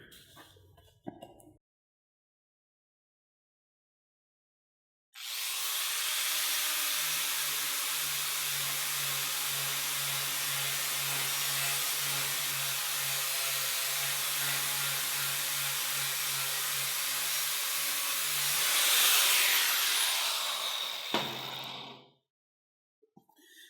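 An angle grinder prepping a clamped metal surface runs as one long, loud, steady whining hiss for about seventeen seconds, starting after a near-silent lead-in and cutting off sharply, alone with no talk.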